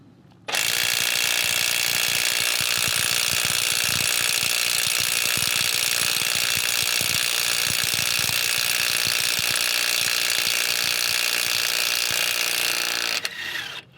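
A Snap-on CT9010 18V 3/8-inch cordless impact wrench hammers continuously on a rusty lug nut for about thirteen seconds, a loud, rapid rattling that stops abruptly.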